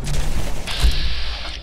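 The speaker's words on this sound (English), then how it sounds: "Oh great, there's gunfire from over there now." Gunfire in the video game Fallout 4 Survival mode, a burst of distant booming shots and rattling reports over a steady noisy game backdrop, moderately loud with no talk.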